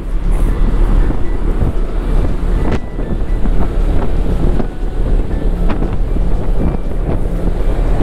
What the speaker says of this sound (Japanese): 風は強いですね。